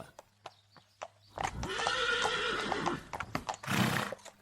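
A horse whinnies loudly in a long rising neigh, framed by a few sharp clip-clop hoofbeats before and after, close and clear with no talking.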